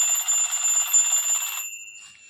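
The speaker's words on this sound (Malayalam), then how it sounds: "ക്ലോക്കിൽ അലാറം അടിച്ചു" Alarm clock ringing with a high, continuous electronic tone that is close and clear, then cutting off partway through and leaving near silence.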